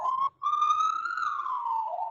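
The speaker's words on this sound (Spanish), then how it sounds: "¿Quién es esa ambulancia que está por ahí?" An ambulance siren wails outside in one long rising and falling tone, briefly cut off near the start, then sweeping steadily and fairly loud with no voices over it.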